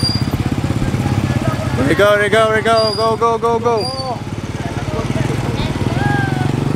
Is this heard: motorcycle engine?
yes